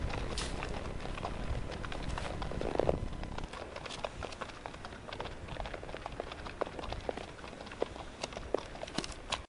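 Several horses walk along a long trail ride with the rider at the back of the group, producing a steady, fairly soft clip-clop of hooves on the ground alongside faint rustling throughout.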